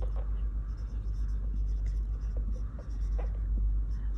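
A chemistry formula is written by hand with a steady scratching of pen on paper, faint and close over a constant low rumble, with no voice.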